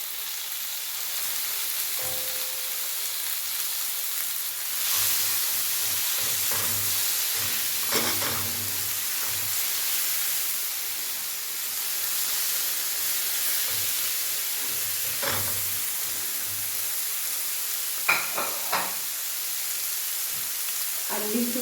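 Tomatoes and green pepper sizzle and hiss steadily in a frying pan, with occasional scrapes and clinks of stirring breaking through the constant crackle.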